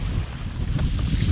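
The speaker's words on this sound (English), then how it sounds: "Crazy wind and huge waves." Strong wind buffets the microphone on a small boat in the Canadian wilderness, with heavy, continuous low roaring and churning water from large waves close by.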